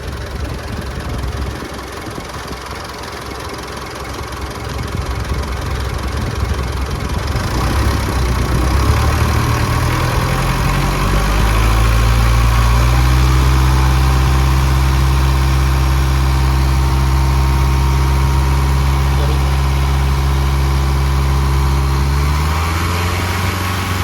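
A Mitsubishi Pajero engine with a stiff steering fault idles and then is revved and held near 2000 RPM, a loud close rumbling drone that rises and stays steady for most of the stretch.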